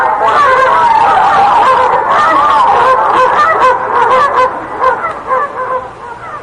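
A duck sound effect for a radio play of Thumbelina: loud, continuous honking quacks that run without pause for several seconds, close and filling the whole stretch.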